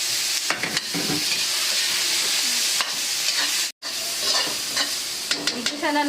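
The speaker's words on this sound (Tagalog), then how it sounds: "Igisa na natin yung tinapa na hinimay ko kanina" Onion, tomato and flaked smoked fish (tinapa) sizzle loudly in a hot pan, with a continuous frying hiss broken by repeated scraping stirs, close up and with no talking.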